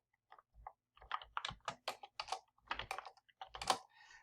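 Keys tapped on a computer keyboard, a quick irregular run of close, crisp clicks in short bursts, heard alone with no talking.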